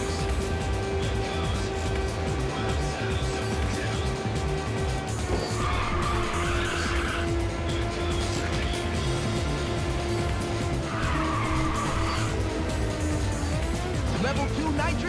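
A car drifting in the PSP racing game Ridge Racer 2, with a sustained engine drone and two bursts of high tire squeal during slides. Game music and announcer speech run under it.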